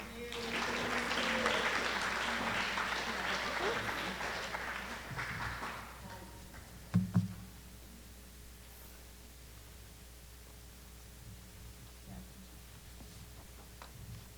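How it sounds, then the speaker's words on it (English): Applause from an audience at a junior high awards ceremony, a steady moderate wash of clapping for several seconds that fades out, followed by a brief thump and quiet room tone. "another round of applause"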